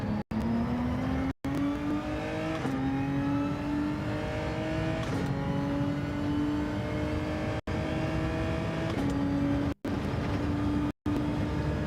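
A race car engine in Gran Turismo 7 revs steadily through long rising gear pulls, with several brief cuts at shifts, loud and continuous with no talk.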